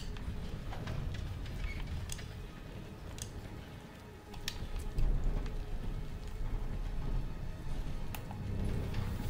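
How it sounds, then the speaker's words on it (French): Rain in the Call of Duty Vanguard game patters steadily with a soft hiss, broken by scattered sharp drip-like ticks and a few low thumps, under a faint game mix. "je trouve qu'il y a des beaux effets de pluie et tout."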